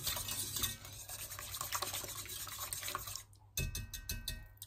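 A pot of Alfredo sauce bubbles quietly on the stove with a soft, wet, liquid churning that dips into near silence for a moment before picking back up.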